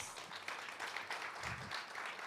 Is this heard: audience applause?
yes